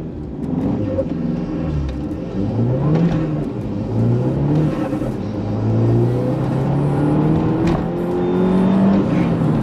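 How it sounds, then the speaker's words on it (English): A 380 bhp front-wheel-drive SEAT Leon Cupra track car revs hard and climbs through gears with a whining, strained roar as the wheels spin under heavy acceleration. "Just wheel spin, isn't it?"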